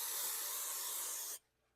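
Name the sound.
cooking spray sprayed into a pan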